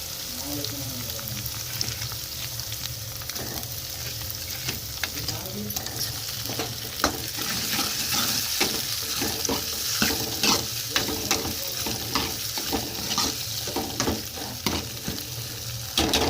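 Tomatoes fry and get stirred in a pan for Telugu-style chicken curry, a continuous soft sizzle broken by frequent spoon scrapes and clatters, with no one speaking.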